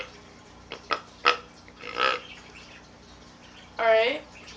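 A handheld deer call with its reed set to imitate a young deer, blown in several short bleats and grunts of varying length with gaps between, close and fairly quiet over a faint background hiss.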